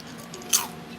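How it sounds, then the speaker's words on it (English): Someone takes a single crisp bite of crunchy fried chicken skin, a sharp crunch up close followed by a brief fading crackle in a quiet room. "I'm going to eat a little piece so you can hear the crunch."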